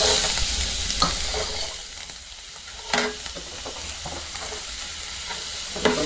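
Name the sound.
onion frying with mustard seeds in pan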